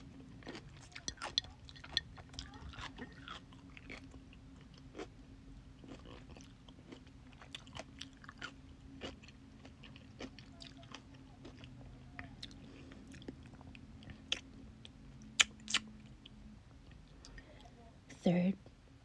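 Pickles are bitten and chewed close to the microphone in quiet surroundings, with sharp wet crunches scattered irregularly over a soft background hum and faint whispered speech.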